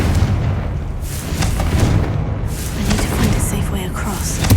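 Confringo blasting spells in Hogwarts Legacy go off as heavy booming explosions, loud and close, with a dense rumbling low end rolling through the whole stretch.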